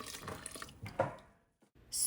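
Lukewarm water is poured into a bowl holding measured sourdough starter, a short close splashing trickle that thins out and stops, followed by a brief clatter.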